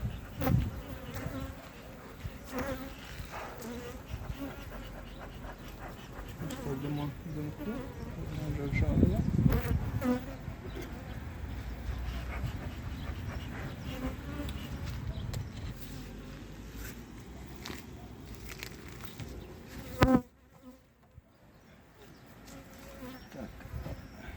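Swarms of honeybees buzz in a dense, continuous drone close by, louder for a moment midway, with a brief bump near the end.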